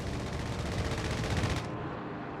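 Aircraft strafing infantry in the WWII strategy game Company of Heroes 3: a rapid, continuous rattle of machine-gun fire at moderate distance that cuts off abruptly after about a second and a half, leaving a low background rumble.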